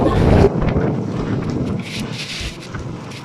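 Typhoon Uwan's wind roars and buffets steadily, with a rough, blustery rush that pounds hardest at the start and then keeps up a constant loud wash.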